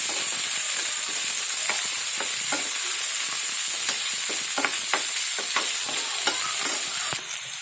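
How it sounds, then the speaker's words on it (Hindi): Onions, capsicum and chili sizzling loudly in a pan for pav bhaji while being stirred, a steady close frying hiss with repeated scraping stir strokes throughout, no talk. "और इसे मिक्स कर दूंगी।"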